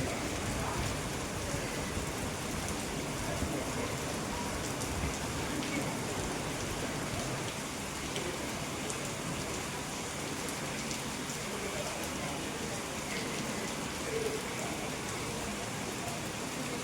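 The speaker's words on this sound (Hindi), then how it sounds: "एकदम ज़ोरदार बारिश हुई थी।" Heavy rain pours down steadily, a dense, close hiss of drops on surfaces that stays constant and loud throughout with no voices.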